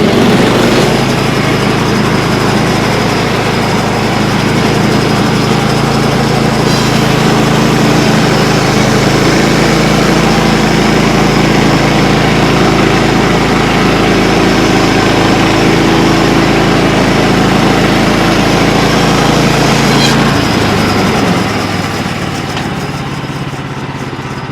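A sawmill engine roars steadily and loud for the whole stretch as spalted red oak is trimmed, its low drone holding constant before tapering off slightly near the end.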